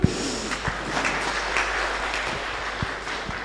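A church congregation at a Kikuyu service claps after a choir song, a short burst of scattered, moderately distant applause with a few sharper claps standing out.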